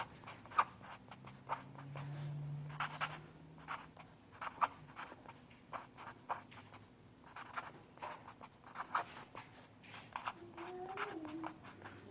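A pen writes on paper while a project management diagram is drawn, producing soft, irregular scratching strokes and taps close to the microphone, quiet and alone.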